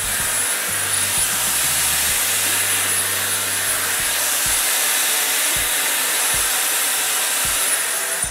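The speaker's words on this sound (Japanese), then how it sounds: "ドライヤーを入れた後に逃がす方向で" A hair dryer blows steadily and close up while bangs are being curled at home with a perm set, a constant loud airy whoosh with faint low thumps of handling underneath.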